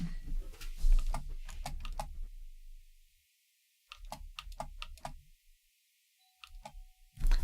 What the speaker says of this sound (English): where is the noise from the keyboard